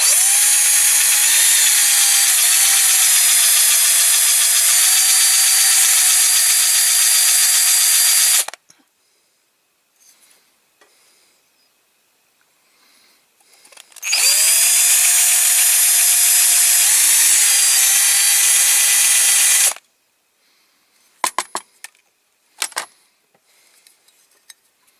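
A power drill bores into a Corgi Major Bedford articulated milk tanker toy, whining loudly and steadily for several seconds, pausing, then running again, followed by a few light metallic clinks.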